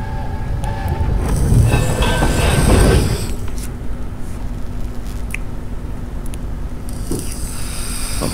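A train at a station in the video game We Happy Few rumbles loudly for the first three seconds, then fades to a steady low hum with faint metallic squeals and clicks.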